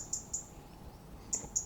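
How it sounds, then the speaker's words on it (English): A single small bird in a quiet Welsh coastal village gives a few faint, high chirps in two brief pairs against soft background hush. "I just love that tranquility of just one little bird singing, no other noise"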